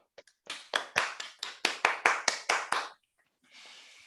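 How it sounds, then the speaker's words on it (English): After a seminar talk on triangulated categories, a small audience claps for about two and a half seconds, roughly ten sharp distinct claps, fairly close, then stops. A soft rustle follows. "let's give the speaker another round of applause"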